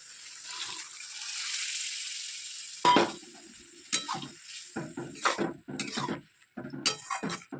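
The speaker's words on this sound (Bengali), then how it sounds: "এবার এটা ঢেলে দেবো তরকাটা যেটা সেদ্ধ হয়েছিল" Boiled lentils poured into tempered dal in a pot, a soft hiss rising then fading, followed by a sharp clatter and a run of spoon-and-pot stirring knocks and scrapes.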